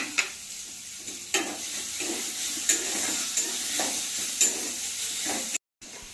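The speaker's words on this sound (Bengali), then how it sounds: "পেঁয়াজ কুচিটা দিচ্ছি এটা একটু ফ্রাই হলে রসুন দেবো" Chopped onions frying in a pan give a soft, steady sizzle broken by periodic spatula strokes about once a second, moderately quiet and close, then a brief cut to silence near the end.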